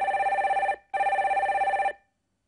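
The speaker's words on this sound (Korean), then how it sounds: "첫 번째 전화 연결 해주세요." A telephone rings in two loud, even bursts with a short gap between them as a caller is connected on a live call-in radio show, then the line goes quiet.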